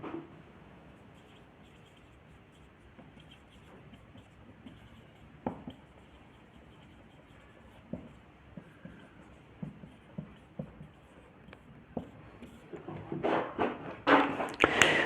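Writing on a board in a classroom: scattered faint scratchy strokes and taps, growing into a denser, louder burst of scribbling toward the end.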